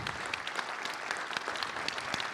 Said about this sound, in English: Can we have a big round of applause for all of our expert